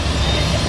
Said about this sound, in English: The train going through town.